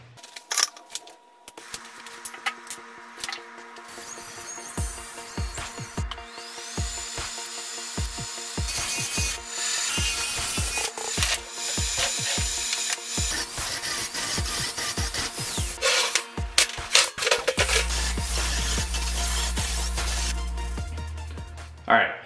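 Metal cutting and grinding on a car chassis as a transmission crossmember section is cut out, with irregular rasping and scraping bursts that turn into a loud, steady tool whine near the end. A voice speaks in places.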